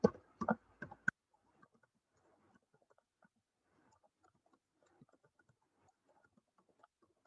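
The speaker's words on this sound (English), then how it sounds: "Typing." Someone types on a computer keyboard while writing Python code. A few louder knocks open the clip, then soft, sparse key clicks continue quietly and irregularly.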